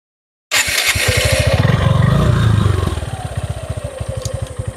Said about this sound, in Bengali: বাইকটা স্টার্ট করে সাউন্ডটা দেখানোর চেষ্টা করছি